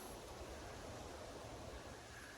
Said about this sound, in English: Sounds like the river running through the trees.